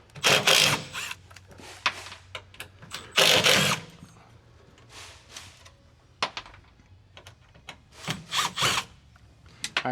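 Power screwdriver backing out Phillips screws from Nissan 370Z pillar trim, several short whirring bursts of a second or less separated by quiet pauses and small handling clicks.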